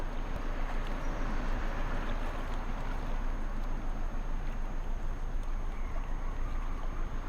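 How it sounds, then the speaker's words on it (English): Simulated water in Microsoft Flight Simulator 2020, a steady broadband wash like rushing water or surf, continuous and moderately loud throughout with no voices. "If you can hear the water. You can hear the water."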